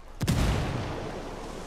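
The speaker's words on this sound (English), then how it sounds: "Oh, they threw a grenade at me." A single grenade explosion in Ghost Recon Wildlands hits with a sharp crack and a deep boom, then a rumbling tail fades slowly, heard alone.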